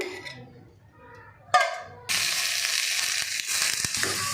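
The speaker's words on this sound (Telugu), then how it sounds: "ఇది ఆనియన్స్ మంచిగా వేగుతున్నాయండి" Onions fry in hot oil for a fish curry, a steady loud sizzle that starts abruptly partway through and continues, with a sharp clatter just before it and faint speech at the start.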